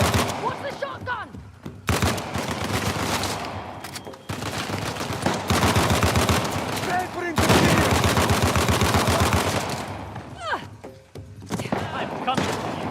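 Shotgun and other gunfire in the action video game Uncharted: The Lost Legacy, a rapid series of sharp blasts and bursts running continuously, loud and close, with voices speaking over the shooting.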